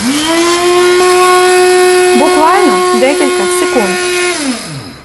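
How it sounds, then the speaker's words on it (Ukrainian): A small electric grinder milling dried herbs and dill, a loud steady whine that starts up, runs for a few seconds with a wavering grinding pitch, and winds down. A voice comes in briefly partway through. "І просто беремо і мелимо."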